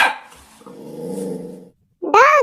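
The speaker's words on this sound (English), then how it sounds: "Dogs." Dog growls in a low, steady rumble for over a second, then gives a short, loud, close bark after a brief pause, with animal sounds at the start.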